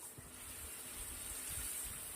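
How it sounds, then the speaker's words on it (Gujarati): A glass of water gushes into a pan of tomato curry, a steady close pour with a faint trickling wash and no voices. "મેં 1 ગ્લાસ જેટલું પાણી નાખ્યું છે"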